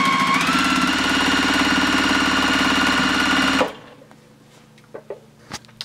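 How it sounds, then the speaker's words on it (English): A sewing machine stitching binding onto a quilt, a loud rapid mechanical whir that speeds up slightly then stops abruptly, followed by a few soft handling knocks in a quiet room. "I just sewed all this binding down"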